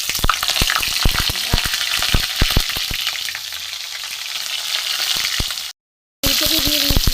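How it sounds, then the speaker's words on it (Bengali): Cauliflower fries in a hot pan for a mixed-vegetable khichuri, making a loud, steady sizzle dotted with sharp crackles and pops. After a brief silent gap near the end, the sizzling resumes. "প্রথমে আমি সবজিগুলো ভেজে নেব।"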